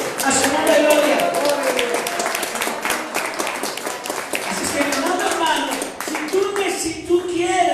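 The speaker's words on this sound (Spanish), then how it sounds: "Dale palmas al que vive, a su nombre de gloria." Church congregation clapping hands during worship, dense steady applause-like clapping throughout with voices and singing mixed in underneath, fairly loud and close.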